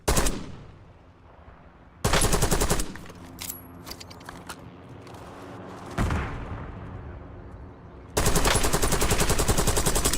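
Bursts of automatic gunfire from a battle royale video game, several loud rapid volleys broken by quieter stretches with distant single shots and faint game sounds between them.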